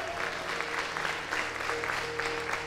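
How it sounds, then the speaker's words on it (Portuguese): Church congregation applauding during a sermon, a soft, even patter of many hands heard at moderate distance, with a low steady tone humming underneath. "Vamos aplaudir os Epafroditos dessa igreja"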